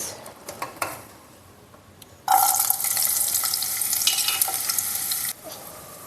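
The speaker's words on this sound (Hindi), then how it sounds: "सारी वेजीज मैंने इसमें डाल दी है और अब मैंने करूँगी फ्राई" Vegetables hit hot oil in a frying pan after a few light clatters, bursting into a loud, dense sizzle that holds steady for about three seconds before cutting off.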